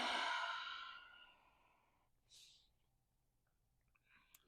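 A long, soft exhale through the nose or mouth during a yoga class drill, breathy and close, fading over a second or two, followed by a few faint rustles in a quiet room.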